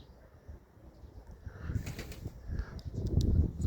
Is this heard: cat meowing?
no